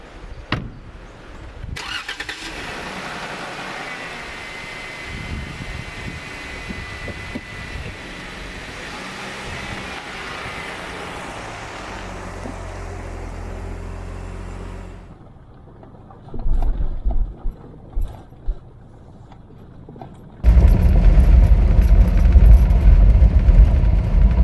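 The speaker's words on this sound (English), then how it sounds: "I'm going to take the Jeep out and explore the trails a little" A Jeep is started up and taken out to explore off-road trails near camp. Muffled rumbling and a short burst of cranking give way to a loud, close, steady engine roar that continues to the end.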